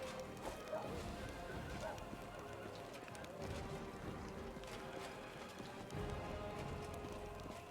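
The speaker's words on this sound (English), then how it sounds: "Horses! You gotta love horses." Hooves clop in a quick running rhythm in Pathfinder: Wrath of the Righteous beneath muffled ambient noise and occasional voices, moderately distant and fairly low in level.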